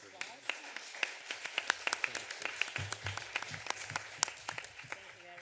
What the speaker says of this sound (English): I think you all deserve a very good applause